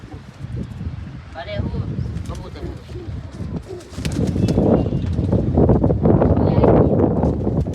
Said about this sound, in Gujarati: કેટલા દિવસ પછી આપણે કબૂતર ઉડાડીએ